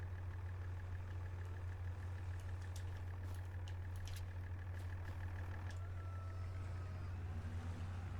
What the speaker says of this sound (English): we're going to utilize the tractor and the trailer here to move these around